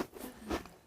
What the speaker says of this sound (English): chewing a very loud crisp into the microphone.